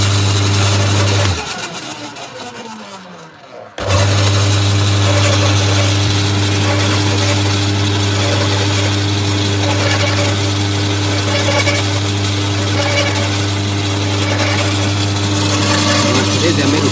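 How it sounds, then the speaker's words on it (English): Machine motor running with a loud steady hum and strong low tone, briefly cutting out to near silence before starting up again and droning on evenly. "let's start the machine up, and we'll turn this clockwise until we hear that noise"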